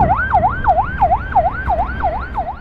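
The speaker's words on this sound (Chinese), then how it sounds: "来了，救护车来了！" An ambulance siren wails close and loud as it arrives at a highway crash rescue, its rising and falling tone cycling quickly and steadily over low traffic rumble.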